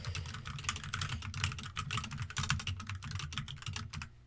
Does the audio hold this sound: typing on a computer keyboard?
yes